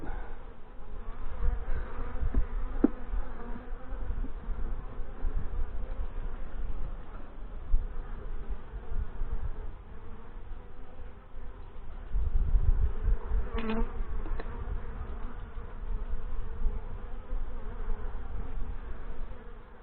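Honey bees hum around an open hive during an inspection, a continuous close drone of many wings rising and falling slightly, with a brief faint click and a low thump partway through.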